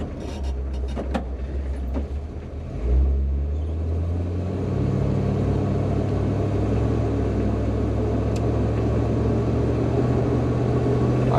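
A carbureted engine in a 1962 Chevrolet Impala runs while driving, giving a steady, loud, low rumbling drone that swells slightly and then holds even throughout, with no voices.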